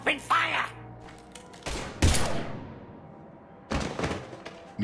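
Bursts of gunfire in the Mass Effect 3 shooter game, several loud cracks and volleys in quick succession, with a voice speaking at the start.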